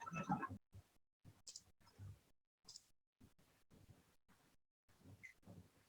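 Quiet, sparse computer mouse clicks from work in ArchiCAD software, each a short dry tap spaced irregularly with near silence between, recorded close with no talking.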